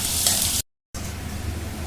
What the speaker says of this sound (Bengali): এটা পেঁয়াজ রসুন এগুলো একটু আমি লাল করে ভেজে নেব